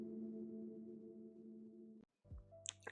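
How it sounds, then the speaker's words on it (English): A small sonar-like synth ping made in Pigments marks a riff change in a drum-and-bass djent track: a sustained, buzzing chord cuts out, then a short, bright, high ping rings out over newly entering heavy low tones. "There's a little sonar sound when the riff transitions"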